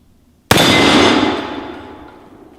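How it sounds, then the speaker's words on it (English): A single sharp gunshot from a 100-year-old gun fired at a target, loud and close, with a long ringing decay after the crack. "I'm gonna shoot that red tongue target again."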